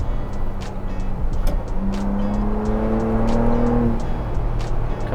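A 2022 Ford Bronco Raptor's engine blips and climbs in pitch on a paddle-shift downshift to third, a loud, rising interior drone over constant road rumble.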